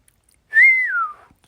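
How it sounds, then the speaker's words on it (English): A single long human whistle that rises, holds steady, then glides downward for under a second in otherwise quiet surroundings. "let out a long whistle"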